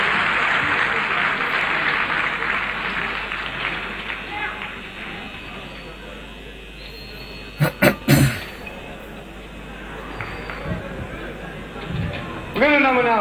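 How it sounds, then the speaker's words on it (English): Concert audience giving standing applause at a show in Paris, 1970, heard as broad crowd clapping and cheering that fades, with a few sharp knocks midway and talking over it. "Standing applause."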